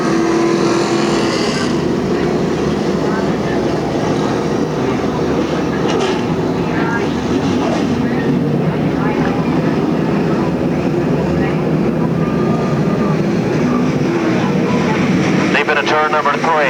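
Pro stock race cars at Riverside Park Speedway in 1987, a loud continuous roar of several engines racing around the track with a race announcer talking throughout, rising as cars pass near the end.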